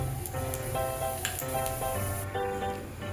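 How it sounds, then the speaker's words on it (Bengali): Whole cumin, dried red chillies, cardamom, cloves and cinnamon tempered in hot oil, a steady close sizzle and crackle that carries on without pause. "এবারে তেলেতে আমি ফোড়ন দেবো, জিরে, শুকনো লঙ্কা, গোটা এলাচ, লবঙ্গ, দালচিনি"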